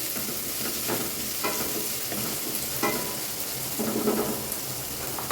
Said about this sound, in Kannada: ಸ್ವಲ್ಪ ಕರಿಬೇವು ಸೊಪ್ಪು ಹಾಕಿ 1-2 ಮಿನಿಟ್ಸ್ ಫ್ರೈ ಮಾಡ್ಕೋಬೇಕು.